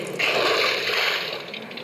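A vehicle in the video game Payback 2 plunges into a water ditch with a loud, close splashing slosh that lasts under two seconds.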